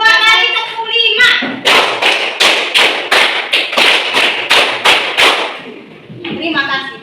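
A classroom of students claps a counted rhythm pattern in loud, sharp, evenly spaced group claps, about a dozen in a row, with talk before and after.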